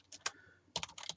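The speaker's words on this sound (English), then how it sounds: "we're going to type sysbench" Keys clatter on a computer keyboard in two quick bursts of typing with a short pause between them, close and fairly quiet, with no voices.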